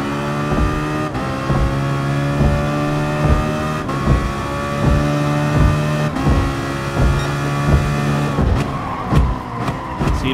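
An Aston Martin Vulcan race car in GT Sport drones at high revs, its engine note climbing steadily through repeated gear changes with brief dips, loud and close throughout with no talking.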